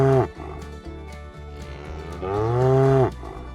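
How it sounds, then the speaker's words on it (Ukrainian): A domestic cow gives two loud, close moos, a short low call followed by a longer drawn-out one with a rising, bellowing tone. "Муму, говорить корова."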